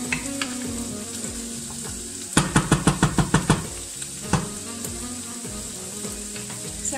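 A sofrito fries in a pan for risotto with a constant loud sizzle, broken midway by a rapid run of about eight sharp utensil taps against the pan.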